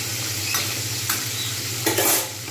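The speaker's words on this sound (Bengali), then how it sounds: "একটু লালচে করে ভাজবো।" Cauliflower florets and paneer fry in a pan, browning for a wedding-style Bengali curry, with a loud, continuous sizzle over a low hum and a few sharper stirring scrapes.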